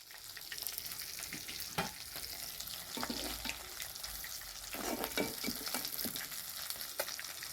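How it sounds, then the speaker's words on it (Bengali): Pieces of silver carp rubbed with salt and turmeric sizzle steadily in hot oil in a pan, a continuous crackling fry with occasional stirring scrapes and no talking. "তেল দিতে গেছে, এবার দিয়ে দেবো মাছগুলো।"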